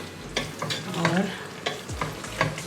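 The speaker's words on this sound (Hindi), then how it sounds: "अब इसको हल्की आंच पे हम इसको थोड़ा सा भून लेंगे" Kaleji, chicken liver masala with chopped green chillies, fries in a pan over low heat while a utensil stirs and scrapes in repeated close strokes above a soft sizzle.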